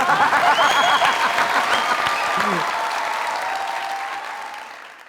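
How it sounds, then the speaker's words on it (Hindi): A studio audience at a Pakistani comedy talk show applauds steadily, dense clapping mixed with a few voices, gradually fading out toward the end. "ऐसे जरा तालियां करो"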